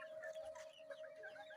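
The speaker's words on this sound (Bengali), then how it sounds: "আমাদের নিকট থেকে বাহামা মুরগির এরাল মোরগ সংগ্রহ করতে পারেন" Bahama breed chickens and roosters cluck softly and fairly close by, a quiet stream of short, overlapping calls.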